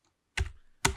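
Two sharp, close keystroke bursts on a computer keyboard, each with a quick decaying tail, separated by a short pause in an otherwise quiet room while a short word is typed.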